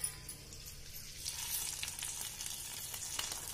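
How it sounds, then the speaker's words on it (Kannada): Cashews, almonds and raisins fry in hot oil in a pan, giving a steady soft sizzle that grows a little louder partway through, with faint crackles and no voices. "in the same heat the grapes will get fried very soon"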